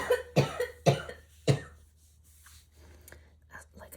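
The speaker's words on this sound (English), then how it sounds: "I have to cough, 1 second." A few sharp coughs close up from a sick person, three or four in quick succession, followed by quieter breathing and small rustles.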